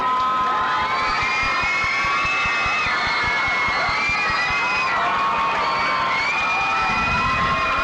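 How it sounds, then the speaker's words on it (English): A large crowd at a 1989 homecoming parade in Riverhead cheers and shouts continuously, with children's high whoops and yells layered over a steady roar, loud and close. "People see me and they just go crazy like that. They start cheering and stuff"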